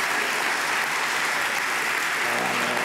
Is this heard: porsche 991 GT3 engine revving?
no